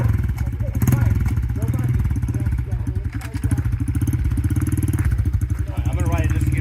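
An old dirt bike engine idles steadily while warming up after sitting unused for a long time, a close, loud, chugging putter with occasional clattering thumps, as someone talks over it.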